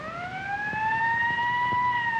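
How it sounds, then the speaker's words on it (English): An approaching ambulance siren, a clear rising wail with strong harmonics growing steadily louder over a faint background, with no talking. "There's the ambulance now."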